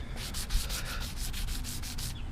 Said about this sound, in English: We're gonna start sanding down a little bit